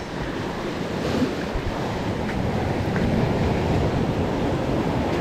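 Sea waves and a strong water current rush steadily at a fishing spot, a dense, even wash of water mixed with wind buffeting the microphone, with no voices.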